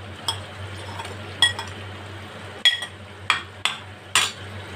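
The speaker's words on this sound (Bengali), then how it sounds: "বলগুলো আমি গ্রেভির সাথে ভালো করে মিশিয়ে দেব।" A spoon stirring paneer balls into Manchurian gravy in a metal pan, with several sharp clinks and scrapes spaced irregularly over a low kitchen hum, close and moderately loud.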